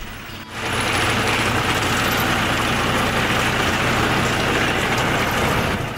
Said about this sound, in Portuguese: Para colher a grama, é utilizada uma máquina adaptada na lateral do trator, que faz o corte das leivas já no tamanho certo.